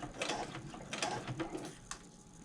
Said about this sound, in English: pull the bag this way underneath your machine so that there's more slack to push it through that way